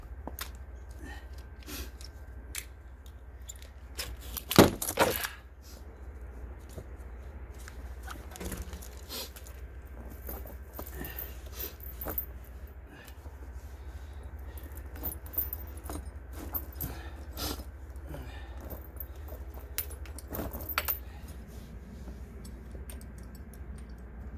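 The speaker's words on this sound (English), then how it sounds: "take these tire chains off, bust out my good ones, and see if we can get those put on here" Tire chains are handled on a G35 plow truck, giving a metallic jangling rattle with scattered clinks and a louder clattering burst early on, with no talking.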